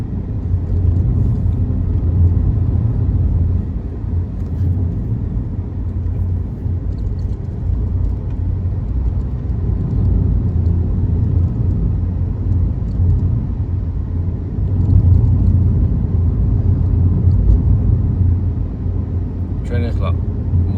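A car drives steadily at about 50 km/h on a city road, giving a continuous, loud low rumble of engine and road noise that holds at an even level throughout, with faint clicks near the end.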